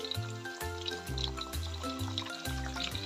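Taro chips fry in hot oil just after a spoonful of garlic seasoning liquid is added, giving a soft, steady bubbling sizzle with faint crackles, fairly quiet and continuous with no talking.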